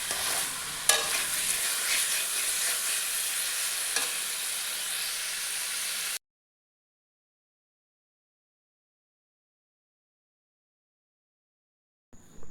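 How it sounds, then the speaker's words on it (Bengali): Bengali-style chicken kosha stir-fries in a pan, giving a loud, steady sizzle with stirring scrapes for about six seconds, then dead silence and a brief return at the end. "মাংসটা আমি 10-15 মিনিট ভালো করে কষিয়ে নিয়ে এবার একটু চাপা দিয়ে দেবো।"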